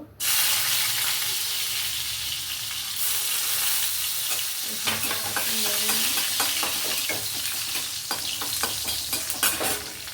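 Chopped garlic fries in hot white oil with a loud, continuous sizzle, while stirring adds scraping and clattering through the second half.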